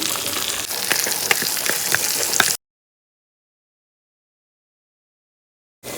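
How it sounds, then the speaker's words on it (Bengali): Fish fries in hot oil with a dense crackling sizzle for about two and a half seconds, then cuts to silence before the sizzle briefly returns at the end, with no voices. "এইভাবে এই পিঠ ও পিঠ করে ভেজে নিব।"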